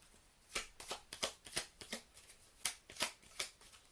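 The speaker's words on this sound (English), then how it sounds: "Let's pull these cards here for the mind." Tarot cards are shuffled and pulled in a series of quiet, crisp riffling bursts, about a dozen separate flicks and slides in an uneven rhythm, close up with no talking.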